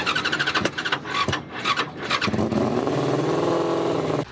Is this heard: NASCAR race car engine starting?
yes